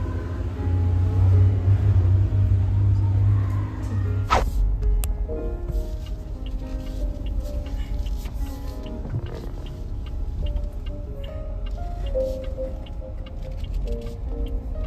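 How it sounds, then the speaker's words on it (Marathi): A new car's engine rumbles low and steady as it drives into the house, with a loud, continuous drone and a few sharp clicks, no speech. "फायनली आपली गाडी आलेली आहे घरात"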